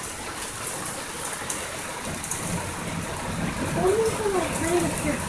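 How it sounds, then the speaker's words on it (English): Heavy rain pours steadily during a night thunderstorm, a dense continuous wash of falling water with no distinct thunder claps, filling the scene at moderate loudness. "It is pouring and you cannot see it because it's night time."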